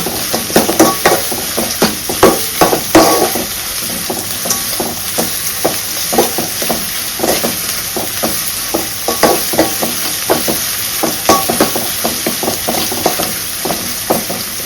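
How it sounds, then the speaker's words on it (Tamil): Kurma ingredients fry toward brown in a pan, a continuous loud sizzle with frequent stirring scrapes and light utensil clinks throughout. "ஸோ இது வந்து நல்லா ஒரு ப்ரௌன் கலரில் நல்லா வறுத்து"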